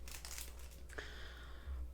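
A plastic bag from a shipping box for a top coat crinkles softly and briefly, with a low steady hum underneath.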